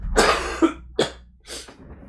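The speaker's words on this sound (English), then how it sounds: "I have to cough for a second." Three or four close, harsh coughs in quick succession, with a short breath between bursts and no talking.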